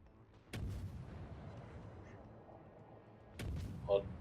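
Two naval gun salvos go off in the World of Warships game, each a sharp boom about three seconds apart with a rumbling tail, set against a quiet hum of game ambience and a faint brief tone near the end.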